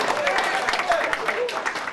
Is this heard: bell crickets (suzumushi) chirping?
no